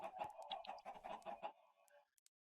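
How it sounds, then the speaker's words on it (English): Chickens in the Minecraft modpack FTB StoneBlock 3 cluck in a quick, busy run of short, close calls that stops abruptly, leaving a couple of faint clicks afterward. "And I think we can do something with these chickens."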